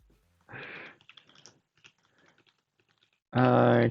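Computer keyboard typing during a timed typing exercise, a run of rapid clicky keystrokes in an uneven rhythm, close and moderately loud, with short bursts of voice at the start and end.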